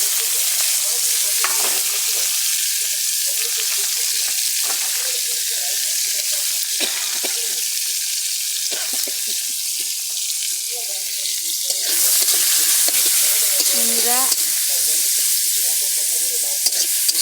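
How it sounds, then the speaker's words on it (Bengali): Spices with onion, ginger and garlic sizzle and fry in a hot pan for broiler chicken curry, a steady loud crackle with occasional stirring scrapes, growing a little louder near the end. "মশলাটা ভালো করে ভেজে নেবো"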